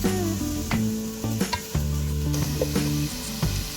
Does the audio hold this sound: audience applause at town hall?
no